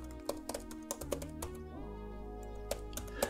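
Brief taps on a computer keyboard as a terminal command is typed, a handful of crisp close keystrokes with gaps, over a prominent steady electrical hum.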